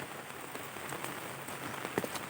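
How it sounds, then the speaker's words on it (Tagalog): Steady, soft rain falls continuously over a rice paddy, giving an even hiss with a few faint drop patters near the end and no voices. "dahil sa ulan ng ulan, halos walang tigil na ulan"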